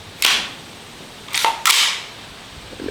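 A 300 Blackout rifle fires at an outdoor shooting range. There is one sharp, loud nearby crack followed by two more quick cracks about a second later, with quiet gaps between them.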